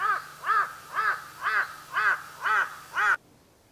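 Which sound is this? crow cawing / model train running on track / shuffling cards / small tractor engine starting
crow cawing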